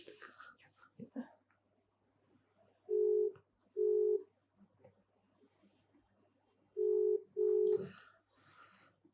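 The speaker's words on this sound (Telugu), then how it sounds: "ఇప్పుడు ఫోన్ చేద్దాం" A phone call rings out through the handset, two double-pulse ringback tones separated by a pause, clear and even, with faint background sounds before and after.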